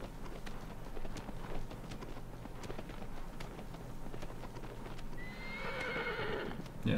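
A horse in the video game Shadow of the Colossus gallops with rapid, rhythmic hoofbeats, then lets out a loud, shrill whinny near the end, all close and clear.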